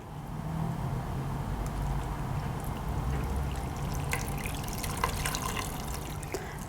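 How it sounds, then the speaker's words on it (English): Homemade chicken stock poured through a sieve into a clean pot, a continuous soft trickle and splash of liquid, fairly quiet and steady, with a few brighter drips near the end. "you can pour it through the sieve."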